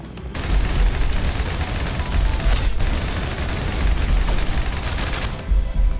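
Dense, continuous gunfire in the video game Snowbreak, a loud sustained barrage of rapid shots with brief dips, running nearly unbroken throughout.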